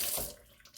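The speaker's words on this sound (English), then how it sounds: "And then you just rinse it off with some warm water." Warm tap water runs over a clean glass jar being rinsed, a brief close splashing rush that quickly fades to a quieter trickle, with no talking.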